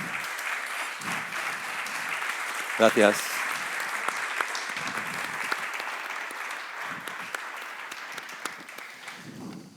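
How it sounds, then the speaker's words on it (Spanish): Audience at a literature festival in Lanzarote applauds to welcome a writer, steady clapping lasting most of the span, with a brief spoken thanks near the start and light talk faintly underneath. "le recibimos con un fuerte aplauso, por favor"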